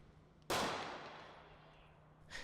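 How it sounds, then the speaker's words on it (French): A single sharp gunshot cracks loudly in the Fréjus road tunnel during a simulated terrorist attack exercise at night, its echo decaying over two seconds, followed by another burst at the end. "des coups de feu retentissent."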